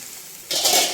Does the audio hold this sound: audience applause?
no